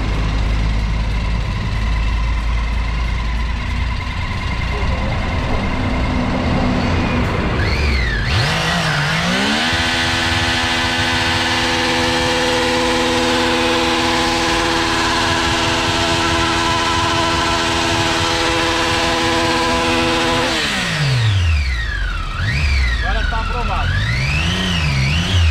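A motorcycle engine revving hard during a burnout at a custom bike's presentation, climbing to a loud sustained high-rpm scream held for over ten seconds before dropping back, with throttle blips at both ends and voices in the background.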